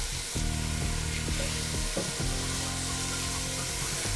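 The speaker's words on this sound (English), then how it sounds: "I'm gonna cook the onion for about 2 to 3 minutes until it gets a little bit soft" Chopped onion sizzles and fries steadily in a hot pan, a dense continuous crackle with faint clinks of a utensil against the pan throughout.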